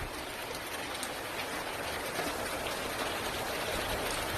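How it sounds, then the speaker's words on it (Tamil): Heavy rain falls in a village after a hot, sunny day, a dense, loud, unbroken hiss of drops on surfaces that stays steady throughout with no voices. "எங்க ஊர்ல இன்னைக்கு மழை நல்லா அடிக்கி"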